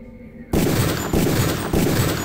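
Three heavy gunshot bursts in the Deus Ex video game, spaced roughly evenly and loud, each sustained with a dense ringing tail, after a quiet moment.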